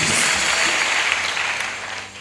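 Clapping from a congregation at a missionary send-off ceremony in Côte d'Ivoire, a dense wash of applause that gradually fades.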